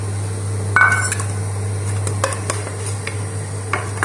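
A spoon stirs gram flour in ghee in a pan, giving scattered scrapes and light metallic clinks over a steady low hum, with one brighter clatter early on and no talking.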